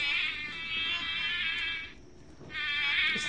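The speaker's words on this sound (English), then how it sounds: "It's a mosquito." A Wild Republic plush mosquito sound toy gives off a thin, steady whining buzz, close and continuous, dropping out briefly before starting up again.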